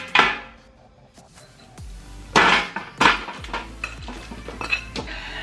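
Tray of Brussels sprouts being put into the oven, with sharp metallic clanks of the pan and oven rack, several loud bangs and rattles, close up.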